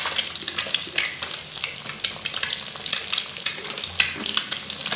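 Eggs frying in a hot pan, a close, continuous crackling sizzle with small spitting pops and occasional stirring, with no speech.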